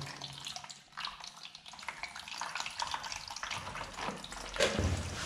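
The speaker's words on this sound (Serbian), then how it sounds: "ta hladna voda curi iz ovog ogromnog radijatora" Cold water drains from a large central-heating radiator being emptied so the pipes won't freeze, a steady, rushing trickle that runs on without a break.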